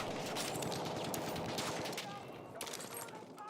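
Rapid bursts of automatic gunfire and a dense fusillade ring out in the video game Incursions during a competitive championship match, loud at first and then thinning into scattered shots.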